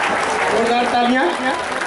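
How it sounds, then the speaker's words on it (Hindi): Crowd applause at a school district sports meet in Ara, Bhojpur, a steady dense clapping wash with a voice carrying over it throughout. "जोरदार तालियां"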